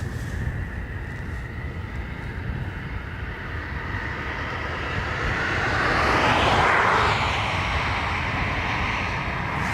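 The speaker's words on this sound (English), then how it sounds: "Ryanair taxiing for London Luton." A Ryanair jet taxis at Dublin Airport, a steady engine roar that swells to a louder whine as it passes fairly close, then eases off, with no voices.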